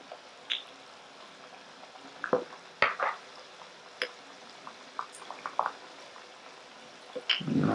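Spoonfuls of bacalaito batter, a Puerto Rican salt codfish fritter, dropped one at a time into hot oil, giving a soft steady frying hiss with scattered sharp pops and splatters and an occasional utensil clink.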